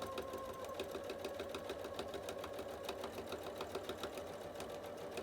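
A sewing machine stitches fabric in a rapid, steady run of needle strokes, close and continuous, with no voices.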